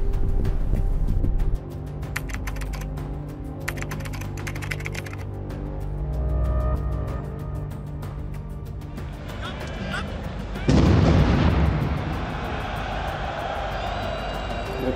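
A single heavy boom from a bomb exploding outside the Stade de France during a football match on 13 November breaks sharply through the crowd din and ongoing talk, then decays slowly.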